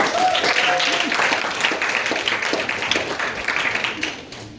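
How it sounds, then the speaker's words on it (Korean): A church congregation at a special worship service claps together, a broad wash of applause that holds steady, then thins and fades toward the end. "박수를 받아주십시오."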